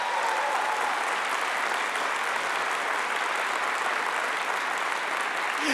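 Audience at a Catholic consecration and reparation gathering breaks into sustained, dense applause, many hands clapping evenly and loudly from start to finish with no talking.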